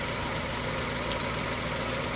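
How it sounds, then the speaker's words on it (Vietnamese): A 2010 Kia Carens 1.6-litre engine idles steadily with a smooth, even hum and faint rhythmic vibration, heard up close without any talking. "Anh em nghe tiếng máy nổ nè."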